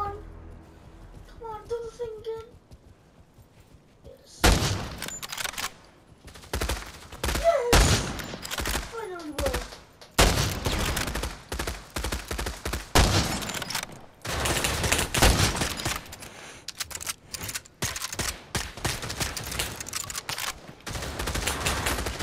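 Rapid bursts of gunfire in the virtual reality shooter Pavlov, loud repeated volleys and machine-gun rattles after a quiet start, with a player talking between shots.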